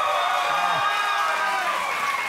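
A television talk show studio audience cheers and whoops over a continuous bed of clapping, lively and fairly loud throughout.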